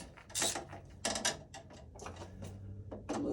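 Screw terminals on an AFCI breaker being loosened with a screwdriver, a series of close, quiet clicks and ratcheting scrapes in short bursts with small gaps between them.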